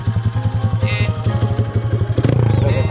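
A Honda CG Titan motorcycle, bored out to 190cc with a performance cam and a ported head, idles with a loud, even, thumping pulse before blipping the throttle into a quicker, harder rev near the end.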